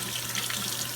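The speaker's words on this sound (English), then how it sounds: "now the warm water is actually serving two purposes. One, obviously it's rinsing away all the cream" Warm tap water runs steadily from a faucet into a sink, rinsing etching cream off a glass piece; a constant, even rush of flowing water with no talk.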